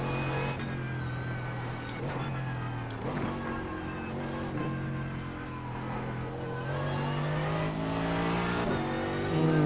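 Car engine in Gran Turismo 7 racing game, revving steadily with gear shifts and rising pitch under acceleration, loud and continuous with occasional tire squeal, no talk over it.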